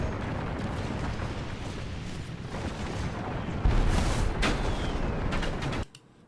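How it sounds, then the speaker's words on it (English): Grape shot cannon blasts in a Total War: Warhammer 3 siege battle: a dense, continuous roar of gunfire and rumbling, with one heavier boom partway through before the din cuts off abruptly near the end. "That was a grape shot that just fired right through everything there."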